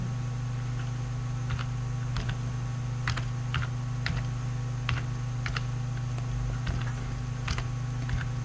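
Steady keystrokes on a computer keyboard while entering an Excel formula, irregular clicks spread evenly over a constant low electrical hum, close and fairly clear with no talk.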